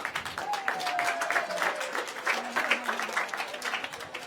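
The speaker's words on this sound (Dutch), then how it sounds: "Een groot applaus hier voor de uitreiker." Audience applause at a regional business and sports awards ceremony, steady dense clapping throughout with a faint tonal whistle-like sweep over it and some crowd murmur.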